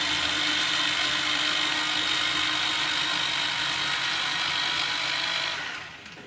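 Kitchen blender grinding leaves and other ingredients into homemade soft food for pet birds, a loud steady whirring drone that runs without a break and dies away at the end.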